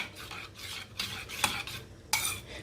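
Milk with cocoa powder for kulfi stirred briskly with a spoon, light metallic clinks and swishes in quick strokes, close and fairly quiet.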